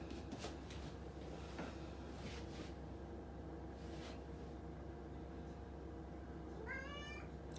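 A pet cat named Moo gives a single short meow near the end, faint over a steady low background hum, with no talking.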